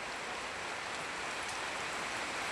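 A constant, even hiss of light drizzle falling over Thai rice fields, soft and unbroken, with no distinct drops standing out.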